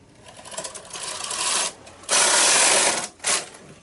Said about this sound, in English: Take my carriage out of hold, and I'm going to knit back.